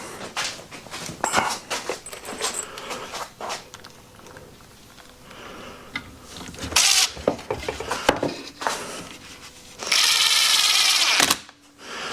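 Short bursts of a power drill whirring nearby while modifying a Kawasaki Ridge UTV's floor and cup holder, including a longer sustained run near the end, mixed with clunks and handling noises.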